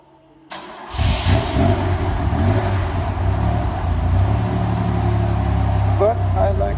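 A Fiat 130 Coupé on a test drive: the engine catches with a thump and settles into a loud, even running drone, with a slight rise in revs near the end.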